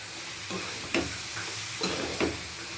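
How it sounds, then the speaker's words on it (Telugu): Broad beans (chikkudukaya) fry in a pan as a spoon stirs them, giving a few scraping strokes over a constant bright sizzle, close and moderately loud. "చిక్కుడుకాయ వేసేసాను, కలిపేస్తున్నాను"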